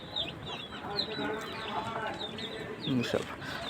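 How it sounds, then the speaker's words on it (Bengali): Chickens settled on a farm at night give soft, scattered clucks and a few higher calls, close and fairly quiet, with a low voice murmuring over them. "আর আমার বাকি মুরগিগুলো তো আছে আশেপাশে, এখানে কুচে বসে রয়েছে।"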